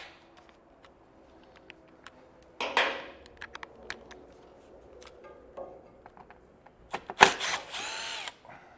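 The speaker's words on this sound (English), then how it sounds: "Now we'll remove our 7mm on each side." Power drill removing 7mm fasteners under a 2021 vehicle during a base plate kit installation, with two short bursts of whirring spin a few seconds apart amid quiet clicks and handling noises, close by.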